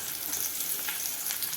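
Chopped onions and four green chillies frying in a pan give a steady, close hiss of sizzling oil with no talk over it.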